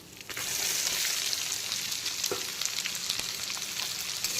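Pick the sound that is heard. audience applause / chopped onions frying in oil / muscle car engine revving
chopped onions frying in oil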